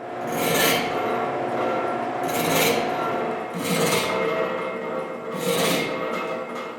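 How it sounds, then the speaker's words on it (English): A hand file sharpening a saw blade gives four rhythmic rasping strokes, each a few seconds long with brief pauses between, close and fairly loud with no talking. "I need to sharpen my saw blade."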